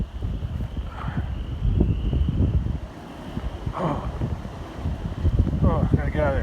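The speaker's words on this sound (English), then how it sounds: "Oh, gotta get out of that wind. That wind is scary." Strong gusts on a very warm, windy day buffet the microphone in heavy, uneven rushes, with a person's voice breaking in briefly between the blasts.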